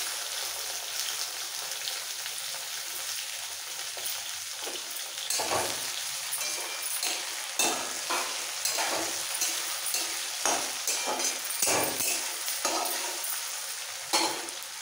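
Chopped onion, green chillies and two medium tomatoes fry in a pan for a restaurant-style tarka, a constant bright sizzle broken by repeated scraping stirs of a spatula, close up with no voices.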